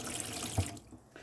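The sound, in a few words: water running from caravan taps with water pump on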